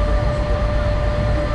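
A boat cruises across the lake from Goma to Bukavu, its engine giving a steady, loud, unbroken drone with a constant hum and rushing water or wind noise throughout.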